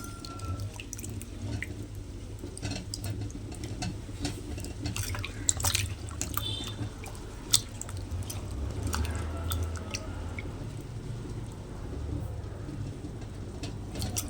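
Mango ginger being rinsed in water to clear off soil, with continuous close splashing, sloshing and dripping and a few sharper knocks from handling, moderately quiet.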